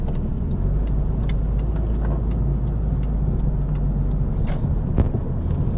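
Inside a Mitsubishi Eclipse driving on a bumpy road, the steady engine drone and road rumble fill the cabin, with faint knocks and rattles from the bumps.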